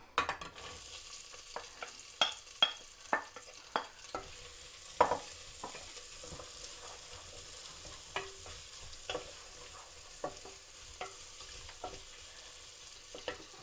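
Onion and green chillies stir-fried in a pan for Sri Lankan-style basmati tomato rice, with steady faint sizzling broken by sharp, irregular clinks and scrapes of a spoon stirring against the pan.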